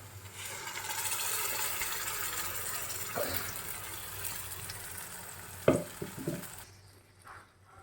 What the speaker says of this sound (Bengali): পেঁয়াজটা ভাজা ভাজা হয়ে গেছে অনেকটাই। এবার দিয়ে দেব পালং শাকের পেস্টটা।